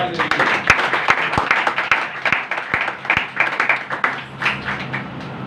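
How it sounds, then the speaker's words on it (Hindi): Congregation applauding at a Christian sermon: dense, continuous crowd clapping with sharp individual claps standing out, loud and close, lasting throughout. "यीशु के लिए एक बार जोरदार ताली।"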